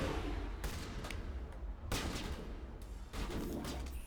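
Shots and fire in the Mass Effect video game, a pistol among them, heard as dense, loud bursts in several separated volleys with steady combat noise between them.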